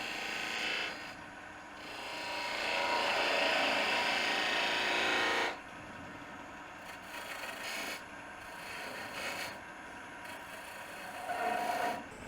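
Wood turning on a lathe as a parting tool takes a peeling cut to shape a tenon, a steady rasping, scraping hiss that swells and fades in passes, close and moderately quiet.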